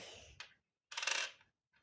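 Ukrainian hryvnia and kopiyka coins drop onto a hard surface, a short clatter followed after a brief silence by a longer, louder ringing jingle and a faint final tick.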